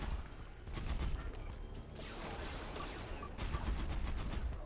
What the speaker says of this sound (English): I have to reload my gun